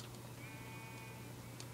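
A sheep bleats in the video game Minecraft, a quiet, slightly wavering bleat heard over a low background hum, with no talking.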